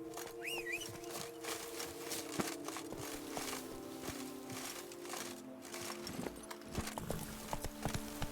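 Roach, a video-game horse, moves along with steady rhythmic hoofbeats over ambient game music and chirping birds, the clopping clear and continuous throughout.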